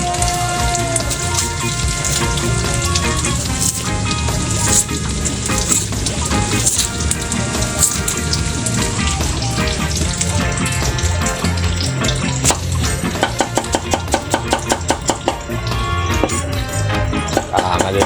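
Onion and tofu sizzle while being sautéed in a pan for ginisang ampalaya with shrimp and egg, a steady loud hiss and crackle of hot oil running without a break from start to finish, close up, with no voices.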